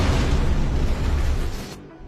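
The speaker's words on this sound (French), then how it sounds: "L'explosion fit trembler tout le bâtiment, déclenchant aussitôt l'alarme" A loud, roaring blast fills the clip for nearly two seconds, then cuts off abruptly into a low fading rumble.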